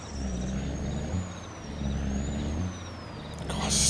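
Truck engine in Farming Simulator 22 running steadily with a low, rumbling drone that swells and eases as it drives, with a brief burst of noise near the end.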